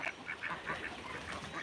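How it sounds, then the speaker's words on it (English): Ducks quack on a farm in rural South Dakota, a busy flock giving repeated overlapping calls at close range in an even rhythm, with no talking. "These are my ducks."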